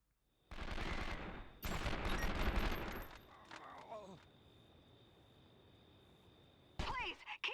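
Bursts of gunfire in 24: The Game, dense rapid shots in two volleys followed by scattered fainter shots, a voice briefly heard, and another short burst at the end.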